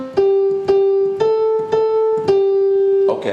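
Twinkle Twinkle Little Star picked out as single notes on a piano, six clear struck notes in an even rhythm, each ringing on, close and alone.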